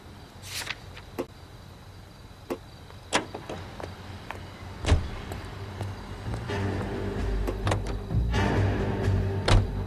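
A car in the L.A. Noire game: scattered door-like clunks and clicks, then a low engine rumble builds and holds through the second half, with no talk.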